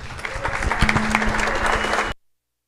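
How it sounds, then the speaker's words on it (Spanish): Audience applause for a poet at a tribute gathering of family and friends, a lively round of clapping from a small crowd with a faint steady hum underneath, ending abruptly. "Un aplauso para el poeta que pudo ver el reflejo del sol en el agua"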